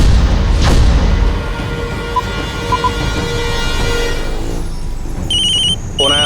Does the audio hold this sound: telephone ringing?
yes